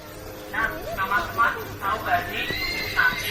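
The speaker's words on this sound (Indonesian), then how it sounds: "Suara kuda." A horse neighs at a petting farm, a few whinnying calls rising over a child-guide's talk and crowd chatter, moderately close.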